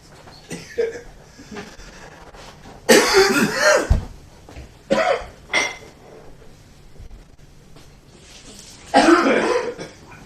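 A person coughs in several harsh, loud bursts spaced across the clip, with throat clearing and a light clink of dishes between them in an indoor room.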